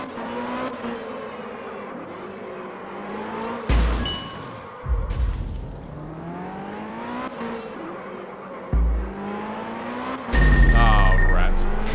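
A drifting car in the Absolute Drift video game, with an engine whine that rises and falls, several sharp skid and crash bursts and a loud final surge, heard close with music underneath.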